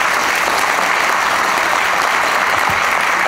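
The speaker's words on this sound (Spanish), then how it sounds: "Fuertes aplausos." Loud, dense applause from an audience fills the room continuously after a commemorative unveiling at a national academy of sciences anniversary ceremony.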